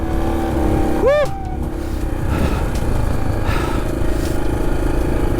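A motorcycle rides through sand dunes, its engine a steady close drone that runs through the whole stretch, with a brief whistling tone near the start.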